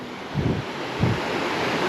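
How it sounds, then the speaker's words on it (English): The Glenmore River in the Highlands, swollen after heavy rain, rushes in a steady, loud broadband roar, with wind buffeting the microphone in low gusts. "You can probably hear the river from here."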